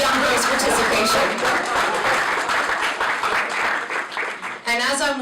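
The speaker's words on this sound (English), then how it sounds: "Please clap for the young girls' participation." Steady audience applause at a Republican Black conservative gathering, many hands clapping continuously and fairly loud for about five seconds, with a brief dip near the end before resuming.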